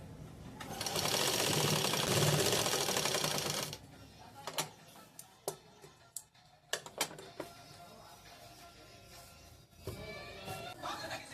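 A sewing machine stitching a blouse, one steady whirring run of rapid stitches lasting a few seconds, then irregular clicks and knocks as the fabric is handled, followed by a brief final burst of stitching.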